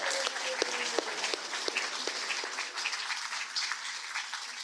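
A hall audience at a Jewish communal organisation's triennial election meeting gives sustained applause for the candidates, a steady wash of many hands with a few sharper individual claps standing out, moderately loud throughout.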